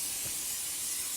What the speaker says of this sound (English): I'm going to take the spray oil and just spray the inside of the basket.